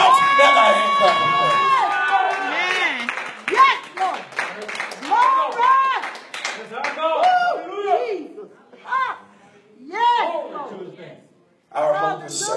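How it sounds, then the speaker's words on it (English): Church congregation shouting and clapping hands during a sermon, with excited voices calling out and scattered claps ringing close, fading into intermittent shouts and exclamations separated by brief pauses. "give God a shout and a hand clap"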